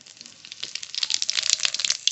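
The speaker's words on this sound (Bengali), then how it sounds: "জিরে ফরন" Cumin seeds hit very hot mustard oil in a kadai and crackle and spit in rapid, close, irregular pops that build quickly in density and loudness, with no talking over them.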